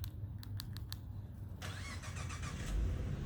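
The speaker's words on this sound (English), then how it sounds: "Automatic keyless remote start." A 2015 Ford Mustang V6 fires up by keyless remote start outdoors, a few brief clicks giving way to the engine catching and settling into a steady idle, heard from nearby.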